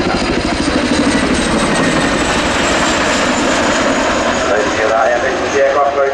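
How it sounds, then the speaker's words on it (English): An RAF Chinook helicopter at the Royal International Air Tattoo air show gives a loud, continuous roar of engines and rotors with a rhythmic pulsing chop from the blades, heard under a commentator talking. "This Waka Waka sound is synonymous with Chinook and leads to our popular Twitter hashtag, BladeSlap."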